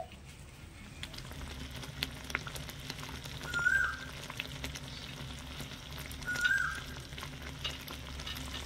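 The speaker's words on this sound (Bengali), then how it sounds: "গ্যাসের আঁচটা মিডিয়াম থেকে লো আঁচের মাঝামাঝি রেখে দেব আর একটু ফুটিয়ে নেব।" Raw mango pieces simmering in thickening sugar syrup on a gas stove at medium-low heat, producing a soft, continuous bubbling sizzle with faint clinks, no voices present.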